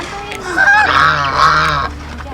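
Geese on a free-range chicken farm honk loudly and close by, a few raspy calls overlapping across two seconds, with faint farm background behind them.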